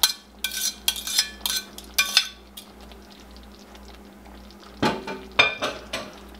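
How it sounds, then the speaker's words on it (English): Swedish meatballs are tossed in a pan, giving bursts of clattering, scraping metal knocks in quick clusters, then a pause over a steady low hum before another short round of clanks. "just give these a little toss around the pan just to get them coated"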